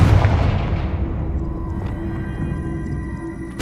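A Confringo spell blast in Hogwarts Legacy, heard as a loud, booming explosive burst up close that decays into a long rumbling tail with faint ringing, with no speech.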